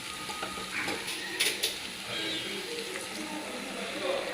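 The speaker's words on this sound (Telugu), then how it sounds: "పసుపు వేసాక అలా కలబెట్టాలి." Drumstick curry being stirred in a pot after turmeric goes in, a soft continuous scraping and sizzle with a couple of brief sharper clinks of the spoon, close and steady throughout.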